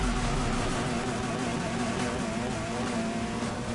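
A turbocharged Subaru BRZ accelerates in the racing video game Need for Speed Heat, a loud, steady engine drone with a dense broadband roar that holds throughout, while a voice talks over it.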